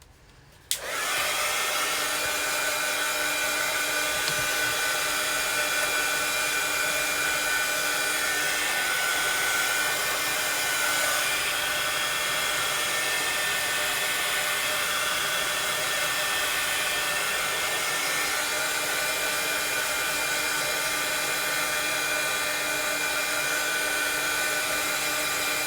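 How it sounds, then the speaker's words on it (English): A hair dryer blows steadily at close range to dry a craft project, starting abruptly after a brief quiet moment and then running loud and unbroken for the rest of the span. "I'm gonna dry it. It's gonna get loud again."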